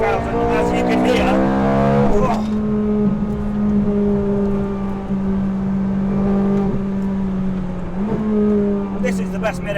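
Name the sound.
Ferrari 430 Scuderia engine revving above 6,000 rpm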